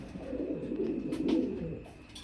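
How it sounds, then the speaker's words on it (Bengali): Caged pigeons kept for sale coo in a low, throaty, continuous rolling murmur close by, swelling slightly midway. No one speaks. "সর্বোচ্চ কোয়ালিটি কবুতর"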